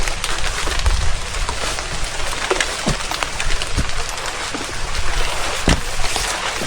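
Steady rain patters on the ground along a rainy, windy mountain trail on Mount Slamet via the Baturaden route, a dense continuous wash with a few sharper drops standing out, no voices.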